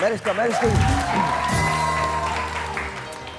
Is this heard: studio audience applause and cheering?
yes